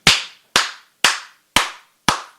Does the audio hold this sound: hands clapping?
yes